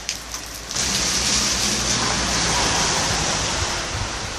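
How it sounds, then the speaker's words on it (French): Steady rain pours down at a marina harbour at Port Ouest on Réunion, a dense hiss of drops on water and surfaces that swells louder after the first moment and holds constant, close and enveloping, with no voices. "Pour l'instant il pleut, donc j'attends un petit peu pour pas trop mouiller ma caméra"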